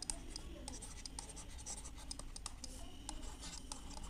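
Pen on paper during a math lesson makes continuous faint scratching strokes, steady and close throughout with a low background hum.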